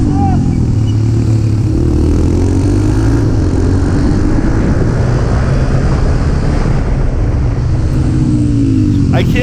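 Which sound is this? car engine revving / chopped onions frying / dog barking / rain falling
car engine revving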